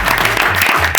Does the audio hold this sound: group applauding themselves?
yes